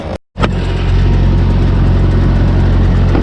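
Reefer trailer refrigeration unit running loud and close after a brief cutout, a steady low diesel-like engine drone with a constant mechanical hum, no voices.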